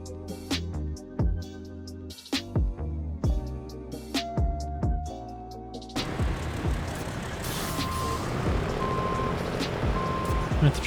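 Heavy truck in SnowRunner maneuvering through mud, its engine rumbling with clanking hits while steady intermittent reversing beeps sound in the latter half, close and fairly loud.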